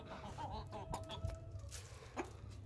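Farmyard chickens cluck in short, scattered bursts close by while feed is tossed to them, with rustling and a faint steady hum underneath and no voices.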